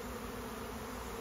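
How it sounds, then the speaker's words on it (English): A swarm of bees buzzes steadily and densely all around, a continuous close hum with no pauses. "So now we got bees."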